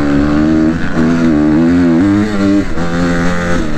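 A 2009 Honda CRF250R dirt bike fitted with a twin pipe conversion revs loud and close, its engine note rising and falling in steady throttle blips with no speech.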